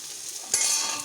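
Chopped onions are stirred in a pan over medium heat, a soft sizzle swelling into a brief louder hiss as they are moved, heard close and without speech.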